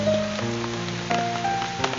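Steady light rain easing off outdoors while someone walks toward a hospital, a soft continuous patter with faint hum underneath and occasional scattered drops and clicks.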